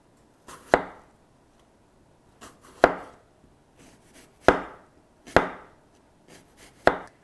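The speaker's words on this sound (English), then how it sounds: "I'm just going to go ahead and keep slicing the rest of the apples." A knife chops down through apples on a board as they are cut into thin slices, giving about six crisp, close knocks at irregular intervals, each with a short ringing tail.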